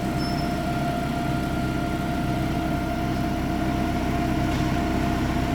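A car engine idles steadily during a brake test at a technical inspection. The low, even drone goes on without a break, close and fairly loud, with no one speaking.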